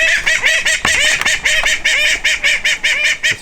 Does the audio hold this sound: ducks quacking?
yes